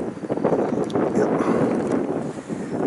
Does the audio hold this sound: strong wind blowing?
yes